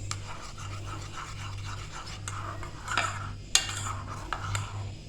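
A spoon stirs yeast into lukewarm water in a bowl, giving light, steady scraping and soft clinks over a low hum, with a couple of sharper taps near the end and no talking.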